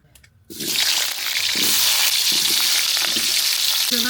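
After a brief quiet moment, a loud, steady sizzle of white cooking oil poured into a hot pan bursts out and continues, with a few soft clinks of stirring.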